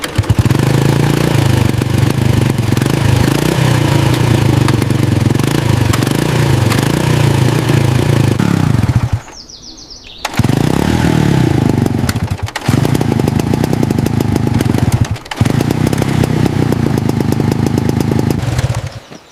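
A small, long-abandoned moped engine runs loud and rough close by after being pulled from deep mud, briefly dropping out around the middle before sputtering back to a steady buzz.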